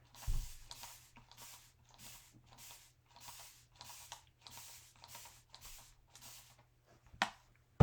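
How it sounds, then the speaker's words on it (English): Repeated short spray bursts misting a transfer on a handmade winter craft sign, about a dozen evenly spaced hisses from an aerosol or spray bottle, fairly faint and close, ending with a couple of clicks. "Let me spray that transfer down."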